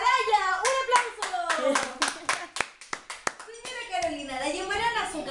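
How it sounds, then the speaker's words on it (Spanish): Scattered hand claps break out for a trivia winner while voices, including a child's, keep talking over them; the clapping is sparse and uneven rather than a full ovation. "¡Un aplauso!"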